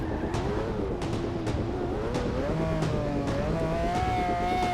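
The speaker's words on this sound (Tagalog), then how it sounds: "Grabe, ingay ng makina, parang Lambo." A drag van in the GTA 5 video game gives off a loud, steady engine drone, pitch wavering and rising slightly, alone without speech throughout.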